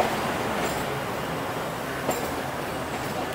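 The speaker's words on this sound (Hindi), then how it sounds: "लेकिन यहाँ पे ट्रेन रुक रही है।" A passenger train on a summer special service slows at an unscheduled halt, heard as a continuous broadband rumble from inside the carriage with a faint metallic clink or two and no talking.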